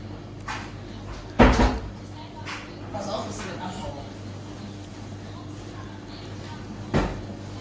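A drawer or cupboard in a home is pulled open with a sharp wooden knock, followed by quieter rummaging and another soft bump later, while people talk nearby.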